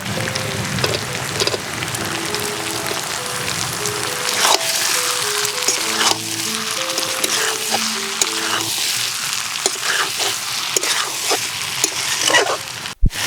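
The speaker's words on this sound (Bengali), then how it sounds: "এবার চিংড়ি মাছ দিয়ে আরেকটু কষিয়ে নেব" Green jackfruit and prawns frying with spices in a pan, a steady close sizzle running throughout with a few stirring scrapes and clinks, no talking.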